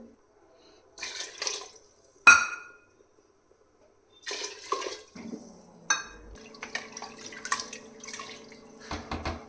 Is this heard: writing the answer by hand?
no